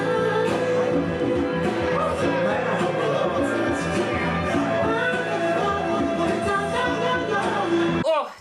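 A vinyl record spins during the track's B part, a full band mix with layered vocals and rich instrumentation playing steadily and loud until it cuts off abruptly at the end.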